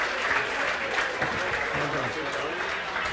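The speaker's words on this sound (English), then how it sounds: "Give them a big round of applause" A crowd at an evening GAA panel event applauds the panel guests, a brief, thick wash of clapping heard up close with some voices mixed into it.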